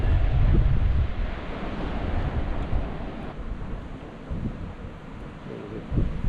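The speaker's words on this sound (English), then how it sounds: "Waves are up a bit." Ocean waves rumble and wash steadily against the rock platform at Curio Bay, New Zealand, a broad continuous roar mixed with gusty wind buffeting the microphone.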